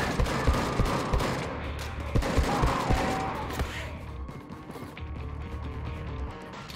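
Gunfire from the video game Wolfenstein II: The New Colossus, a rapid, loud volley of shots and mechanical clatter over busy game noise, fading into a lower rumble.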